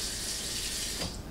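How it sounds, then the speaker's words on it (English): Water running steadily from a tap for a quick rinse during home beer brewing, a close continuous hiss that shifts near the end with a brief sharp clatter. "Do a quick little rinse."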